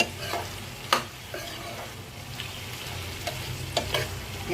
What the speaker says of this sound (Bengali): এই যে দেখুন একটু নেড়ে দিই।